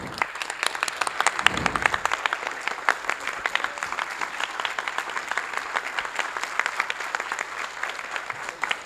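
Sustained audience applause at a theatre event honouring guests with shawls: dense, steady clapping from a crowd continuing for several seconds, fairly even in loudness.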